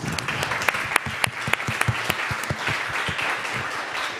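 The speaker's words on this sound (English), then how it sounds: "great panel with great panelists that deserve a big applause" A conference audience at an SME banking event gives a panel a short round of applause with distinct individual claps, close and moderately loud, tapering off toward the end.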